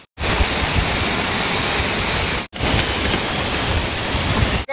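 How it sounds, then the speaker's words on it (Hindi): A natural mountain waterfall pours steadily, a dense, loud, unbroken rushing roar close by, briefly cut once. "नेचुरल वॉटरफॉल यहाँ पे बनाएंगे, पहाड़ के ऊपर से आ रहा है नेचुरल पानी है"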